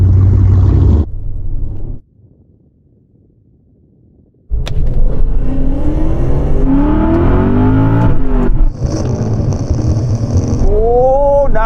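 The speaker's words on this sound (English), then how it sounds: "we're going to do another quarter mile drag race, but this time we're not going to launch them" Two BMW sedans, an E39 M5 and an Alpina B10 with V8s, roar and rev as they accelerate hard from a rolling start in a quarter-mile drag race, with a quiet gap before a loud, sustained engine surge and rising gear-change whines.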